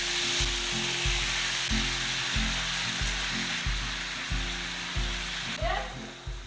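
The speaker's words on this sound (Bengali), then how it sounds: "1 মিনিট এই ফোড়নটা নাড়াচাড়া করে ভেজে চিকেনের টুকরোগুলো দিয়ে দিচ্ছি" Chicken pieces sizzle in hot oil with tempering spices and bay leaf over high heat, a steady broadband hiss of frying under a low, regularly pulsing mechanical hum.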